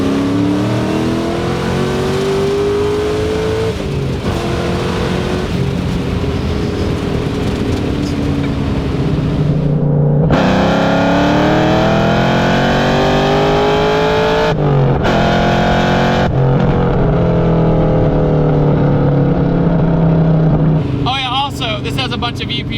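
A 900HP Terminator Cobra pulls a gentle third-gear run from 60 on the street, its engine note loud and close, climbing steadily in pitch with brief breaks as the throttle eases and picks back up.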